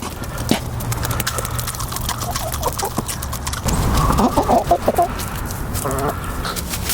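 Backyard chickens cluck and call as they hurry out of the coop for treats, a busy outdoor flock close by with scuffling and shuffling underneath and some brief talk mixed in.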